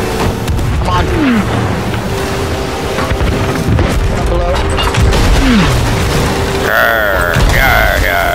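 Gunfire and booming cannon blasts from a Sea of Thieves skeleton ship battle crack and thud in loud bursts, mixed with clanking mechanisms and chirpy game effects, while a player murmurs briefly.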